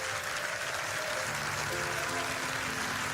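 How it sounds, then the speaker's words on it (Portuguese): Church congregation applauding during a service, a steady wash of clapping throughout, with sustained music or voices underneath and talk over it. "Aleluia, glorifique ao Senhor com palmas."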